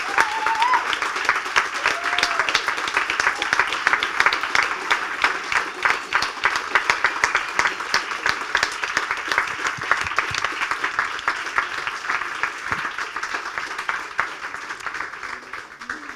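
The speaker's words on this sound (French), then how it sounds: "Je voudrais qu'on applaudisse hyper fort Lucie, alias Luby" Sustained, fairly loud audience applause at a round-table event fills the room at an even level, with a dense clapping texture and a brief voice near the start.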